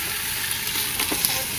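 Vegetables sautéing in a hot pan, a steady bright sizzle throughout with small crackles and pops, close and moderately loud.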